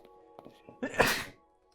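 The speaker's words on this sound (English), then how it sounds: "I don't know what makes me sneeze all the time" A single sharp sneeze from a person playing Minecraft survival, breaking through quiet background game sounds, loud and close, lasting about half a second before fading to silence.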